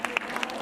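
Audience applause at a celebration for level achievers, a brief burst of scattered, close claps filling the moment.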